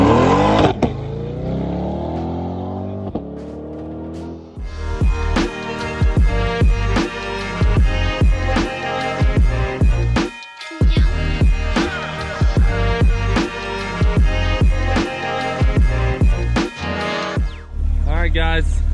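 Chevrolet Corvette C8, a mid-engined sports car in track mode with traction control off, launches hard off the foot brake, its engine revving up through rising gears, loud and close with a brief pause before pulling again, with some talk over it.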